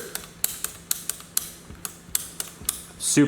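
Crisp, short clicks of a GI single-sided safety selector on a rifle being flipped back and forth, about a dozen sharp mechanical snaps spaced evenly and close up, ending in a brief rustle.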